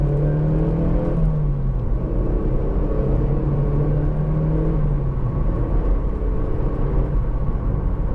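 Steady engine drone and road roar fill the cabin of a hard-top Mazda MX-5 2.0 cruising at the legal speed limit, with a low tone that shifts slightly as the car drives on and no one talking.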